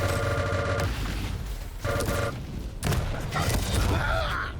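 Shotgun blasts and heavy weapon fire in a fast arena-shooter duel, a few loud booming bursts spread over a few seconds with game effects between them.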